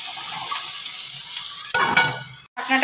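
Tomatoes are tipped into hot oil in which chilies have just fried, and a bright, steady sizzle builds into a louder burst, broken by a brief gap and then a renewed crackle.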